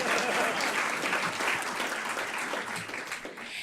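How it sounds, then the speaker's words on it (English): Steady applause from an audience, a dense wash of clapping that holds at a fairly even level throughout. "let people clap for you"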